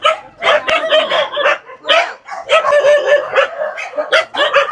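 Barking from a pack of rescued street dogs, several animals yapping and barking in overlapping bursts close by, loud and continuous with a few higher yips and no speech.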